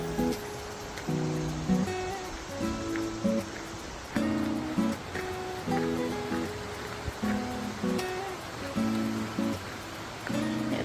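Water flowing over and past rocks beside a hiking trail in Pennsylvania, a steady soft wash of flow running throughout, with recurring tonal sounds layered over it.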